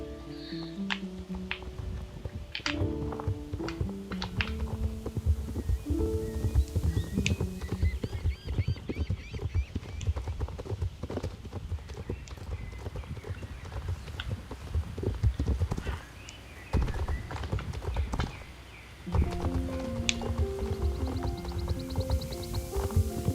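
Rhythmic horse hooves clip-clopping as a rider travels in the online horse game Star Stable, steady trotting beats over game music with occasional neighing, continuous for the whole stretch with a short quieter dip near the end.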